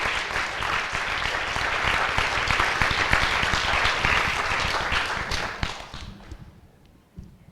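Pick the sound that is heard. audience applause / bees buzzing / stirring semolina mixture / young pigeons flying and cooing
audience applause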